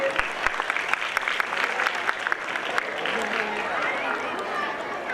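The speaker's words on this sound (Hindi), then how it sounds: "इनके इस्तकबाल के लिए तालियां बजाइए" Audience applause at a school annual gathering welcoming the judges, a steady patter of many hands clapping throughout, with some voices mixed in beneath.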